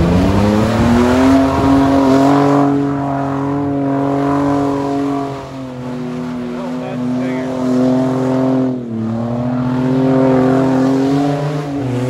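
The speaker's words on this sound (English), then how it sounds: "Try it with the Ford Escape. I mean, it looks like burnout." A Ford Escape does a burnout on a pine tree, its engine held at a loud, steady high rev for several seconds, dipping briefly midway before climbing back to a sustained roar.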